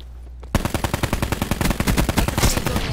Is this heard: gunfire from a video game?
yes